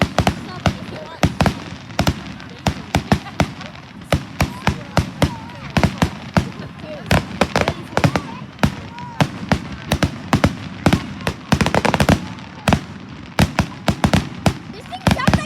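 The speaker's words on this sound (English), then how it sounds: "Is this the firework gun or what?" Fireworks explode in rapid, irregular volleys of sharp cracks and pops, loud and fairly close, with bangs clustering and overlapping throughout and barely pausing.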